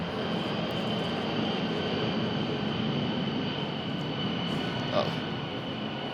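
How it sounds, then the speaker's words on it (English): An airplane passes overhead outdoors, its broad steady engine roar filling the whole stretch at moderate loudness with no clear rise or fall. "as the airplane passes over us here"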